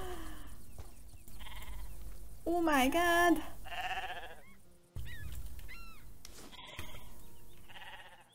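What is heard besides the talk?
donkeys braying in Star Stable Online video game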